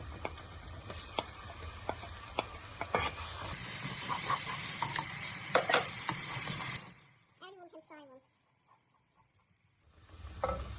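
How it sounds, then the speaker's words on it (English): Garlic and ginger fry for a spinach and potato curry with a loud, close sizzle and repeated scraping stirs. After about seven seconds the frying drops away to near silence, with only faint clinks before the sound returns briefly. "so I'm going to put ginger in now."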